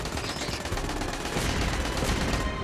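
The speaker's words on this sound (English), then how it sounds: "Orbital bombardment incoming!" Orbital bombardment in Destiny Rising: a dense, continuous barrage of rapid gunfire-like blasts and impacts, loud and close, rolling on without pause for a few seconds.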